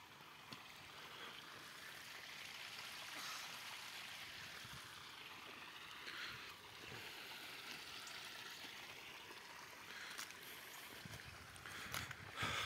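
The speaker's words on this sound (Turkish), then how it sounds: "Böyle güzel bir dere var burada." A small stream flows steadily at a cool outdoor spot, a soft continuous rushing wash that stays faint and even throughout, with no talk over it.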